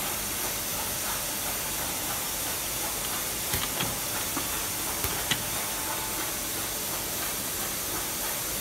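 A labeling machine and conveyor run on a filling line, a constant loud broadband hiss with a few faint clicks and clacks of parts moving, no talking.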